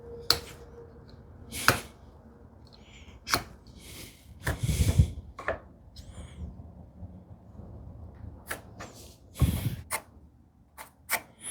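Sharp chisel strikes chopping into wood from both sides while making a desktop organizer, a dozen or so irregular knocks and a few scraping bursts, close and clear, with no talking.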